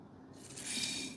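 An AeroPress plunger pressed onto coffee lets out a soft hiss of air. It rises from near silence after a brief pause and holds quietly to the end.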